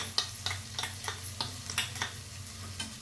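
Brinjal pieces fry in a pan for a village-style curd chutney, giving a steady low sizzle with a row of light, evenly spaced stirring taps close by and no talking.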